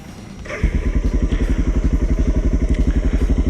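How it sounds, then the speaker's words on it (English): A Suzuki motorcycle fitted with a ProCycle SS Pro-Flow headpipe cranks and fires up, settling into a loud, close, steady rhythmic idle of deep pulsing exhaust thumps. "That's how your bike should start."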